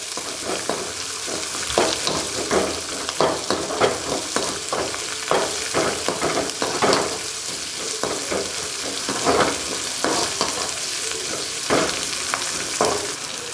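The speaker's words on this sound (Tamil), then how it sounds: "வெங்காயம் எல்லாமே பார்த்திங்கன்னா அந்த கோல்டன் கலரில் வரவில்லை கொஞ்சம் வதக்கி எடுத்துக்கணும்" Onions sautéing in a pan for a mint and coriander chutney, a steady close sizzle broken by frequent scraping stirs with no voices.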